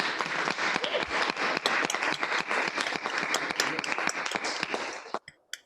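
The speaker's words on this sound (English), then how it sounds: "we owe a big round of applause to both teams." Audience applause after the final rebuttal round of an annual university debate, a dense, steady wash of clapping lasting about five seconds before it abruptly cuts off, leaving a few scattered claps.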